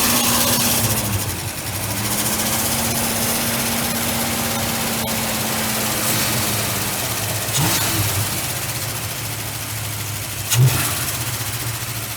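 A 1977 Ford F100 engine runs at a steady fast idle with a loud, constant rattle and lifter ticking, heard from some distance. A brief louder knock comes near the end.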